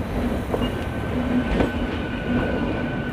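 A Southern Railway Chennai local MEMU train passes, its steady broadband rumble and rail noise continuing evenly throughout with faint wheel squeals rising over it.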